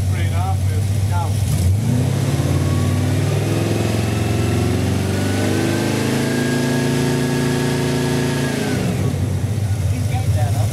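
A Dodge Dart engine revs up and holds a steady high drone for several seconds, then drops back, loud and close, with people talking over it.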